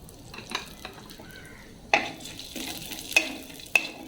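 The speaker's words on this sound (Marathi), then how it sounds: "आणि त्यात काजू भाजून घेऊया आपण" Soft sizzling of cashews frying in hot ghee in a wok, broken by a few sharp clinks and scrapes of a spatula against the pan.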